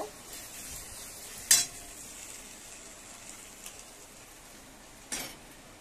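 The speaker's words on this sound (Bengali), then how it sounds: "এই মাংসটা আমি দিয়ে দিলাম, এবার আমি কষবো।" Meat sizzles softly in a pan as it is stir-fried with spices, with steady low frying noise and two sharp utensil scrapes against the pan; close, no talking.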